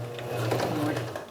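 A sewing machine runs steadily, stitching in the ditch along the bound edge of a plain seam with matching thread, its motor whirring close and continuous under talk.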